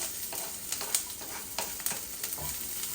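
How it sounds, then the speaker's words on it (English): Chopped onions sizzle steadily in hot oil in a pan, a dense, constant frying hiss broken by small pops and the occasional scrape of stirring, close and without talk. "Once the oil is hot, we've kept the chopped onions. We'll put that into this for cooking."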